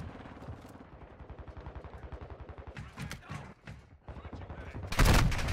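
Rapid automatic gunfire from a Call of Duty match rattles in dense, continuous bursts, ending in a louder, sharper blast near the close.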